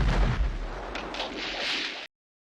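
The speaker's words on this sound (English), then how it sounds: "I think there's a mortar. I think they called in mortars." Mortar explosions from the war film Platoon, a deep booming rumble with rolling blasts and debris-like noise, loud at first and then sustained before cutting off abruptly.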